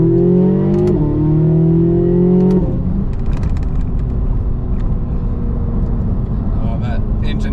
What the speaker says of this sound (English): Oh, that engine noise is intoxicating.